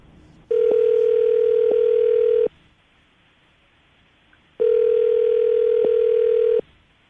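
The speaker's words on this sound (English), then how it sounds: "We're going to call this number, see if we get him on the phone" Two long, steady telephone dial tones sound loud and clear with a gap between them, each with faint clicks partway through, as a landline is being called.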